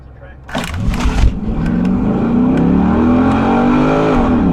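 A bracket racing car launches from the staging line at a drag strip, a sharp burst of engine noise followed by a loud, steady rising roar as it accelerates away, with the tires spinning a little.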